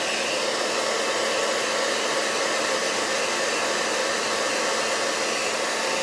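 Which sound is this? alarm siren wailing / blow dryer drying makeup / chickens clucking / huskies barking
blow dryer drying makeup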